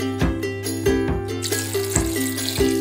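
Water is poured into a pot of washed seedless grapes for homemade juice, a splashing, gurgling stream with regular bumps and a brighter rush near the end, close and fairly quiet.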